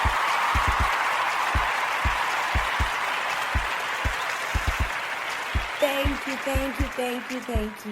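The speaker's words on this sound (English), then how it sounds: "You're far too kind for the hand claps" A studio audience claps for a talk-show host's entrance, steady applause of many hands that thins toward the end while a voice starts speaking over it.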